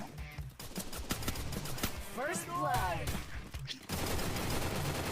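Bursts of rapid gunfire ring out in the Free Fire video game, clustered shots crackling under excited shouting players throughout.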